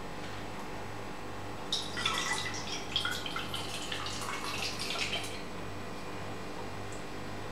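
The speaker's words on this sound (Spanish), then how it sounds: "Le echamos agua" Water is poured into an empty drink can, giving a close, soft trickling splash that lasts a few seconds before stopping, over a quiet hum.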